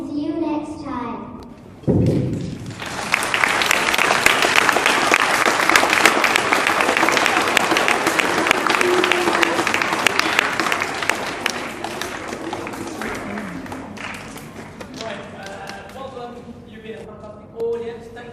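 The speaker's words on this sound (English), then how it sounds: "I think they deserve another round of applause." Applause from an audience of parents at a school presentation, a sustained burst of clapping lasting many seconds before fading, with speech before and after.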